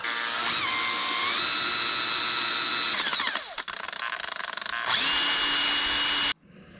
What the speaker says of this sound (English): All right, so I need to drill those dots.